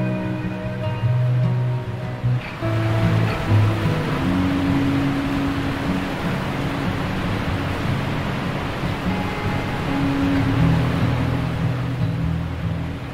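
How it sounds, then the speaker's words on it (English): Tumalo Falls, a waterfall near Bend, Oregon, gives a steady broadband roar of falling water heard from a distance. A low engine-like hum runs through parts of it, and nobody speaks. "You can also hike down to the waterfall to get up close and personal."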